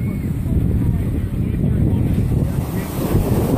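Water surges and rushes in a loud, continuous wash close to the microphone, with heavy wind buffeting and no clear speech over it.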